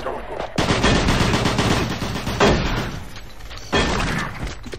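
Rapid gunfire from the Xbox 360 shooter DOOM 3: BFG Edition, loud and sustained, with dense bursts of automatic fire and sharp renewed volleys partway through.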